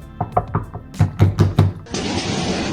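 Knocking on a door in a vacation house: a quick series of about eight firm knocks in an uneven rhythm, close and loud, followed by a burst of broadband noise.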